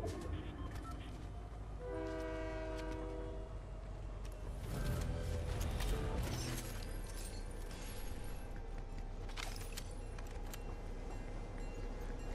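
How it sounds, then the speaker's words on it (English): A train rolls past in the Fortnite game, a horn blast sounding early, then heavy rumbling and clanking that swells in the middle and carries on under game noise. "Train."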